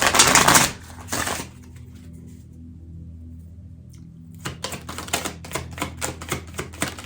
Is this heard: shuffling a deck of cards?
yes